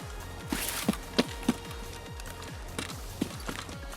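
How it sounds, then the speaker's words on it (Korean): Quiet, evenly paced footsteps from Escape from Tarkov thud in a steady walking rhythm, with a few sharper scuffs standing out above the soft stepping. "발소리"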